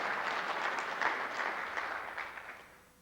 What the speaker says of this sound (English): Everyone give him a round of applause.